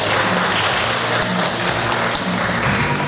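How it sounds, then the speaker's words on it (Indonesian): A wedding crowd in Manado claps for the newly married bride and groom, a dense, steady wash of applause that holds at an even level throughout, with a few faint voices underneath. "Kita berikan tepuk tangan untuk kedua mempelai."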